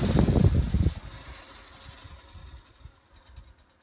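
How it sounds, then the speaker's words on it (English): An Emerson 79648-AU table fan with a loose, rattly grill is switched off, its loud whirring dropping sharply and then fading into a faint, slowing hum with light clicks before stopping. "We'll go ahead and shut it off now."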